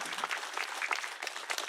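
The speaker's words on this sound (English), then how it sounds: "Can we give the President and the Tribal Council a round of applause" Audience applause for a tribal president and council at a wellness center ribbon cutting in Aberdeen, Washington: a steady crowd clapping continuously at moderate volume, with no talking.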